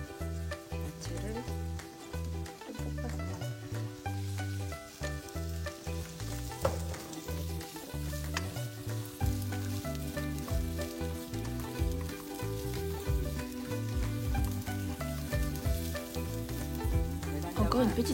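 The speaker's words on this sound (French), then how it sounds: "Et maintenant on va venir rajouter tous les légumes et les champignons." Vegetables and mushrooms for bulgogi sizzle in a hot pan with a continuous frying crackle and stirring, heard beneath prominent melodic background music.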